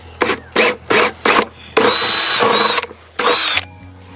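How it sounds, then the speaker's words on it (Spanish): An electric drill bit bores a hole through a plastic tub. Several short, close whirring bursts come first, then a longer, grinding run of drilling with a brief stop partway through. "vamos a tomar la broca y vamos a hacer la perforación que nos falta en este lado"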